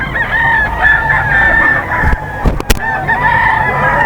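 A young bull stag rooster at a breeders' sale of fighting cocks crows loudly and close, a long drawn-out call accompanied by other fowl calling in the background and a few sharp knocks.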